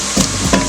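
Oil sizzles in a pot as efo riro soup base fries, with short scraping stir strokes breaking through the steady crackle, close and fairly loud.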